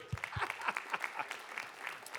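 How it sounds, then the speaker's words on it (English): Scattered clapping from a school audience during a writers' week talk, fairly faint and thin, a few distinct claps with a cheer-like voice mixed in. "You can clap."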